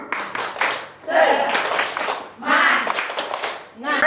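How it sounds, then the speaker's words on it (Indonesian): A classroom group performs a rhythmic 'tepuk semangat' cheer clap, with bursts of patterned clapping alternating with brief pauses and voices chanting along. "Tepuk semangat"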